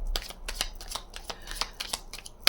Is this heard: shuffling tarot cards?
yes